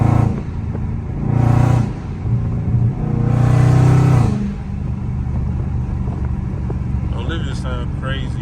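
Loud Scat Pack muscle car engine revving in traffic, with two strong roaring bursts over a deep rumbling idle, then a steady low drone, with some faint voice in the cabin.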